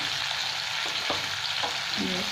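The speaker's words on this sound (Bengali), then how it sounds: "এটা ভালো করে আরেকটু ভেজে নেব" Ginger paste frying in a pan with vegetables for shukto, a soft steady sizzle with a few light scrapes and clicks of stirring.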